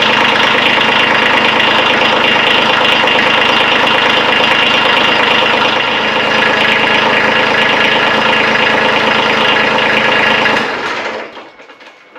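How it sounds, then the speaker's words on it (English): A Kubota B series compact tractor's engine runs steadily at idle, loud and close, with a dense mechanical rattle. It holds for about ten seconds and then cuts off abruptly into silence, with no talking. "We're going to go ahead and fire the tractor up"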